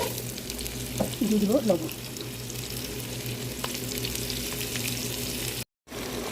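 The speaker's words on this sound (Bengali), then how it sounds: "এখানে গোশটা আমি পেঁয়াজের সাথে একটু ভালো করে ভেজে নিয়েছি" Beef fries with onions in a pot seasoned with whole spices for a spiced beef bhuna, giving a steady broad hiss. Someone speaks briefly near the start, and the sound drops out for a moment near the end.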